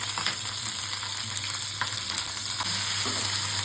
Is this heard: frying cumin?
yes